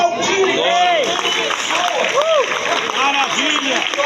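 A church congregation applauds in a steady wash of clapping, with loud voices calling and cheering over it throughout.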